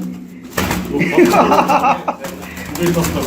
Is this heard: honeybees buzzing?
no